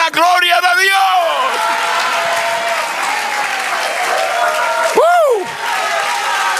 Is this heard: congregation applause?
yes